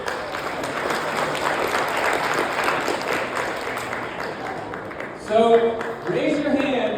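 A room of high school seniors claps at a class meeting, a scattered and fairly loud burst that thins out toward the end as voices come in.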